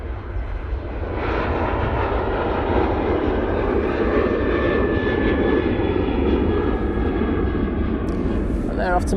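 A Ryanair jet airliner takes off at Manchester Airport in low visibility, a loud, sustained engine roar building and holding steady throughout.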